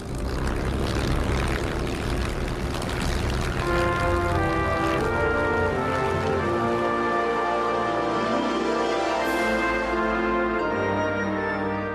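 A Supermarine Spitfire's piston engine runs at full throttle on takeoff, a loud continuous roar with a rough, layered drone that holds steady and shifts in pitch toward the end, with no voices.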